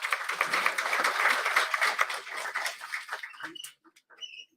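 An audience at an international tourism conference in Samba District, Jammu and Kashmir, claps in a dense, fairly close round of applause that thins and fades out toward the end, with faint chatter at the close.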